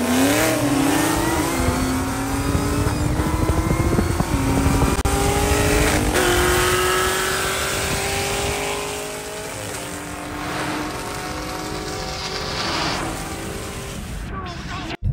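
A race car engine roars and revs hard, pitch climbing steadily through the gears, loud and close, with a busy crowd or track noise underneath.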